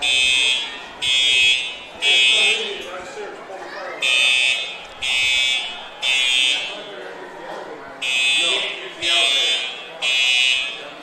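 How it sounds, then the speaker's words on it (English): A fire alarm at a high school football stadium sounding in loud, evenly spaced repeating buzzer blasts of about a second each, with crowd chatter and a commentator talking underneath. "play on the field has stopped because of the fire alarm going on up here"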